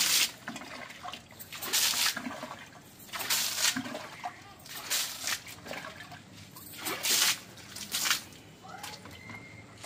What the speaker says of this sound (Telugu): పడతాయి నీళ్ళు